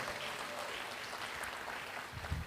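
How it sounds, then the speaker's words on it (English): Audience applause at a book launch in Ghana, honouring the author's wife: a steady, soft wash of clapping from a crowd, fairly distant and even, with no voices over it. "A big round of applause."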